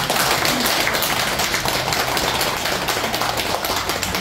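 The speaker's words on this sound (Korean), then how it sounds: "박수 한번 부탁드리겠습니다" Sustained applause from a congregation at a Buddhist dharma service in a new temple hall, a steady dense wash of many hands clapping throughout, with a faint low hum underneath.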